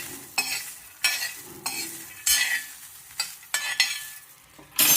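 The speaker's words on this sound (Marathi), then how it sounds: "आता पहिल्यांदा हे छान भाजून घ्या." Green pigeon pea seeds are dry-roasted in a pan and stirred: loud, repeated scraping sweeps come about once a second, with a soft rattle of seeds between strokes.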